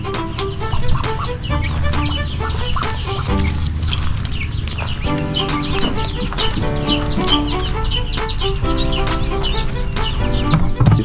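Chickens on a small backyard chicken farm shaded by mango trees cluck and call almost continuously, close and busy, with a dense, steady background of farmyard sound.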